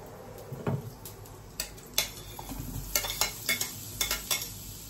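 Mussels and vegetables sautéed in a pan for adobo give a low sizzle under repeated close clinks and scrapes of a utensil stirring against the pan, in irregular bursts.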